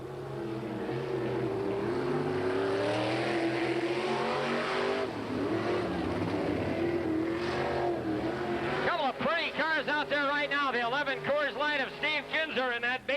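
World of Outlaws sprint cars racing on the Hales Corners dirt track in 1987, a loud roaring drone that breaks into rapidly sweeping engine passes as cars scream by, under an announcer's continuous commentary.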